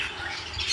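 Large pet birds in an aviary let out a continuous shrill squawking chorus, close and steady for a brief moment.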